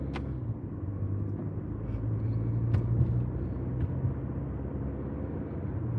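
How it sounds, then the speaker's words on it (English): Low rumble of a car pulling out on a road during a driving lesson, engine and tyre noise rising gently and holding steady, heard from inside the car. "give your car some gas"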